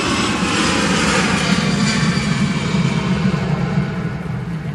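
A Ryanair airliner lands in strong crosswinds during Storm Kathleen at Manchester Airport, its loud, steady roaring engine rumble heard up close throughout, with no talking.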